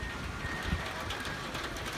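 Rain patters steadily on a tin roof during a downpour, a faint, even hiss with soft scattered taps and no speech over it.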